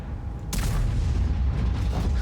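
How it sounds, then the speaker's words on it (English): A Grille 15 tank destroyer firing its gun in World of Tanks: a single loud, close boom with a sudden sharp onset and a long rumbling tail. "Another shot into the Jack Panzer"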